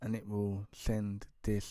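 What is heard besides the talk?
No distinct noise like a dog, phone or traffic.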